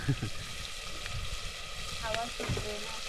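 Spices sizzle in hot oil as a tempering for konkan-style mutton, cooked outdoors behind a house; a steady crackling hiss runs throughout with faint clinks, no clear voices.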